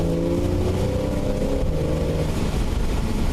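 A Porsche 911 driving on a road, its engine a steady close drone with a rising tone through a tight turn, loud and continuous.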